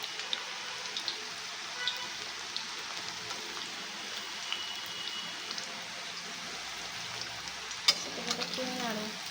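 Butterfly chicken frying in splattering oil is stirred, a dense close sizzle with constant crackling spatter and a few louder scraping clanks of the utensil toward the end.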